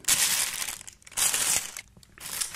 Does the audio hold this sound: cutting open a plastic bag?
yes